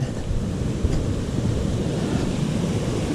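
Water flowing beside a forest hiking trail on Gregory Bald in the mountains, a steady close rush of stream noise with broadband wash and some wind buffeting on the microphone, continuous and loud with no talking.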